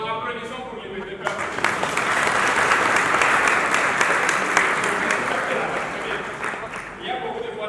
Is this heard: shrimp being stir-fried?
no